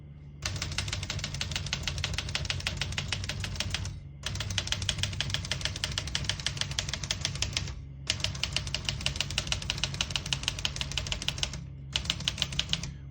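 Rapid mechanical keystrokes clatter from an Olivetti Lettera 31 vintage portable manual typewriter in long continuous runs, broken by short pauses; no clear margin bell ring stands out.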